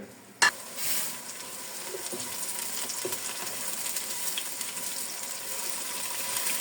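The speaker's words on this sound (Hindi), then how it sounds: "अब इसमें हम डाल देते हैं प्याज। प्याज को हम ब्राउन कर लेते हैं।" Onions dropped into hot oil and browning in a pan, a sharp splash and burst of sizzle at the start settling into an even, moderate frying hiss with light stirring, close and without talk.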